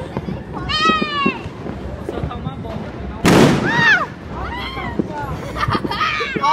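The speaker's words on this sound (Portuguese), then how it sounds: "Todo mundo tá expectativa dos fogos" Fireworks burst at a family New Year's Eve celebration, one loud broadband blast near the middle followed by crackling, with excited voices and chatter throughout.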